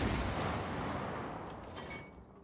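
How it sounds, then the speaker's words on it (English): An explosion in the co-op game It Takes Two, a loud, broad rumbling blast that fills the opening moment and slowly decays over about two seconds with some crackling debris near the end. "Alright, we'll explode it."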